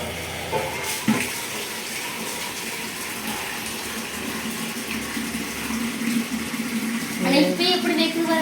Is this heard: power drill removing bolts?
no